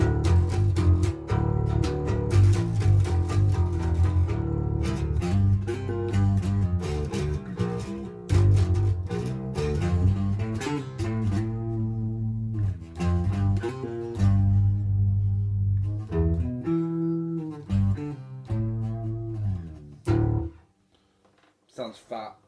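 A Squier P Bass with a Seymour Duncan Quarter Pounder pickup and DR Fat Beams strings, played through chorus into a miked cab, sounds thick and warm in a steady riff of repeated plucked notes, ending with sparse final notes.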